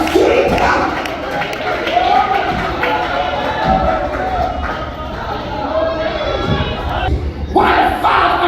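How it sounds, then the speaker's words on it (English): A church congregation shouts and cheers in a loud, sustained roar of many voices, rising and falling with bursts of excited yelling and some clapping, close and enveloping throughout. "the crowd was cheering"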